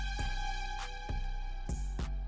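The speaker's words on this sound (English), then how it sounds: "I put another note stacked right on top of it where the notes are adjacent," Korg Triton analog strings with two adjacent notes stacked together, giving a tense, eerie sustained pad beneath a sparse beat of punchy kicks and bright hat hits, no voices present.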